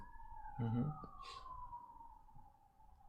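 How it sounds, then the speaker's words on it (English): A police car siren wails steadily in the distance, faint and continuous behind a brief murmur of a voice nearby. "If you guys heard those police sirens in the background"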